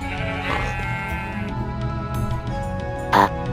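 Sheep bleating in Minecraft on a mountain ridge, close and clear, with a pig nearby and game background music underneath.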